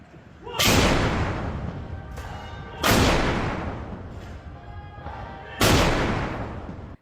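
Cannon fire from a 21-gun salute at the army headquarters Independence Day ceremony in Delhi: three loud, evenly spaced booms, each followed by a long, rolling echo that fades slowly before the next round.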